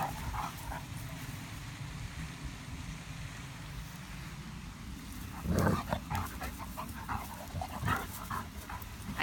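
A Great Dane puppy pants and gives small whimpers and yelps while playing, with scuffling around it and a louder burst of noise partway through.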